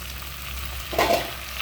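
Tomatoes drop into hot oil for an egg curry, setting off a burst of sizzling and frying that swells near the middle, close and moderately loud over a steady background hiss.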